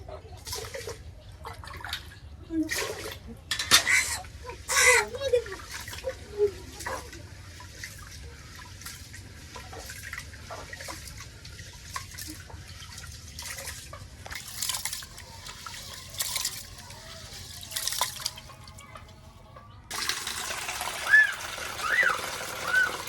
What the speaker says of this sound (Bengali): চাউলটা ভালো করে ধুয়ে দেবো